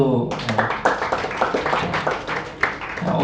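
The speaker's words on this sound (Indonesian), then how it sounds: "tepuk tangan dulu." Students in a classroom clapping after a presentation, a quick burst of scattered hand claps of uneven rhythm lasting about three seconds, with a voice at the start.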